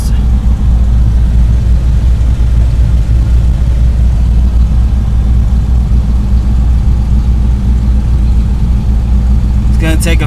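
A Ford Mustang engine, freshly fitted with a new thermostat, idles loudly and continuously from up close with its heater fan blowing at full, a dense steady rumble throughout and a brief clatter at the very end.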